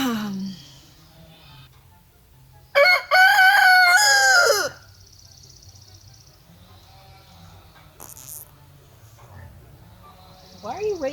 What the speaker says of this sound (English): I have a rooster behind me